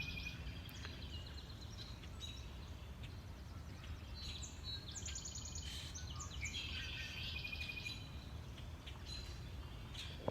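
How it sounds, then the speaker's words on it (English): Red-winged blackbirds sing in a spring marsh from the trees all around, a busy chorus of repeated trills and chirps at varying distances over a steady low background hum, no voices. "There are red-winged blackbirds everywhere, up in the trees, right up in here."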